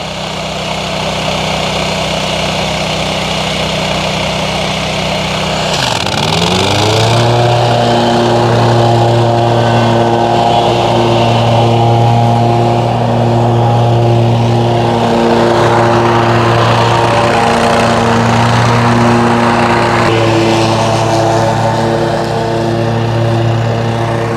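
A lawn mower engine drones steadily and loudly, close by, with a brief dip in pitch before it settles into a constant hum, mowing grass at 3.5 inches.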